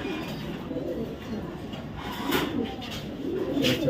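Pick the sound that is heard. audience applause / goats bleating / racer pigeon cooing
racer pigeon cooing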